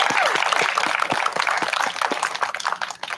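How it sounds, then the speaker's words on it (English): A small crowd applauds after a prayer at a Métis flag-raising ceremony in Lac La Biche, steady hand claps with distinct sharp strikes, fairly close and continuous throughout. "I think we got to give her another applause for that"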